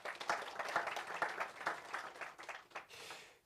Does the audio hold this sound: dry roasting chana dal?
no